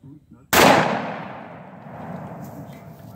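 A Mossberg 930 shotgun firing a mini slug goes off once with a sharp, loud report that decays into a long ringing tail, with faint sounds just before the shot.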